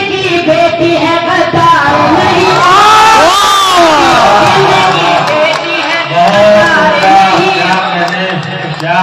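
Crowd at a mushaira poetry recital in Azamgarh cheering and shouting loudly and continuously, voices rising in excited bursts, with applause mixed into the steady wall of audience noise.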